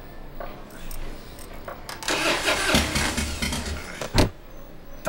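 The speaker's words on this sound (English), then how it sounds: "Something's wrong with the engine. That's why it won't start?" A car engine cranks roughly and sputters without catching, loud and close, with bursts of grinding and revving noise over several seconds in a martial arts TV drama scene.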